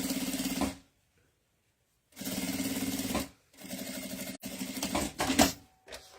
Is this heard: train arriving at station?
no